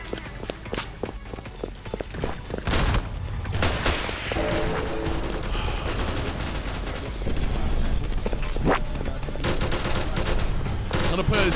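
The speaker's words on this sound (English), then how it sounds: "How am I missing with a shotgun?" Shotgun and other gunfire in an online multiplayer shooter game, a rapid run of sharp shots and bursts over footsteps and game noise, loud and busy throughout.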